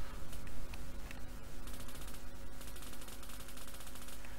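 Rapid rifle gunfire in a Unity zombie survival video game, dense continuous bursts of automatic shots over a constant loud background hiss.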